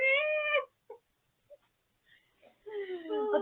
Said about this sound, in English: As we have cats outside, they're like, just start howling.